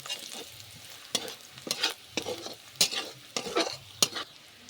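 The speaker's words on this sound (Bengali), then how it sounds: "পেঁয়াজটা আমি নেড়ে নেড়ে হালকা আঁচের মধ্যে বাদামি কালার রং করে নেব" Sliced onions stirred and fried over low heat in a pan for a Bengali prawn curry, with a soft steady sizzle broken by about eight sharp scraping stirs of a spatula, close by and without speech.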